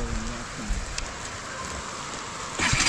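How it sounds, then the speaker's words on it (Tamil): Steady rain hisses on a dark off-road track during a night motorcycle ride on a Duke BS6 200 or R15 V3, a continuous broadband wash that grows louder and rougher near the end, with no voices. "மழை"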